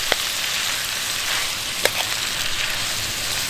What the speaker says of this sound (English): I'm going to let that simmer a little bit more.